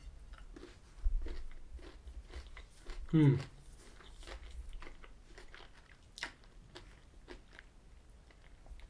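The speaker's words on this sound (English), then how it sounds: "Okay, so now I'm going to taste dairy milk with crunchy bits or crunchy bits dairy milk" Cadbury Dairy Milk chocolate with crunchy honeycomb bits is bitten with a sharp snap, followed by close, repeated moist crunching and chewing in a quiet room, with soft murmured speech at moments.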